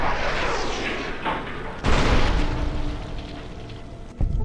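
Gunfire in the video game Fallout: New Vegas, with heavy booming shots and a dense rumbling wash, a sharp blast near the middle and another short report near the end.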